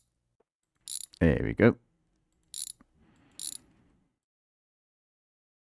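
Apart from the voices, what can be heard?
ratchet undoing cylinder head bolts in My Garage video game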